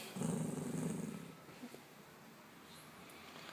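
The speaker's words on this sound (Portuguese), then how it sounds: "Olha que cachorra mais bonita" A female dog gives a low, close growl that swells over about a second and then fades into quiet room noise, with a faint snort partway through and no talking.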